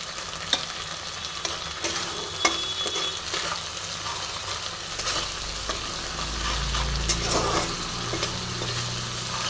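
Spices frying in oil for a home-style okra and egg curry, a steady close sizzle with stirring scrapes throughout, no voices.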